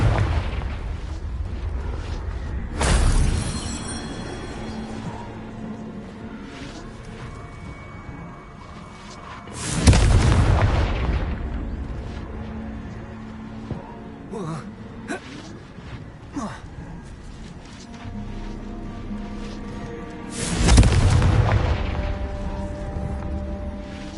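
Three heavy booming blasts of the Confringo fire spell in Hogwarts Legacy, each a sudden loud burst that rumbles and fades, spaced several seconds apart over quieter ambient game sound.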